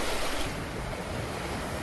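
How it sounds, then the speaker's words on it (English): Steady roar of Lake Michigan waves and gusting wind up to 22 knots buffeting the microphone aboard a sailboat, continuous and loud with no clear breaks. "The waves picked up and we were getting gusts up to 22 knots."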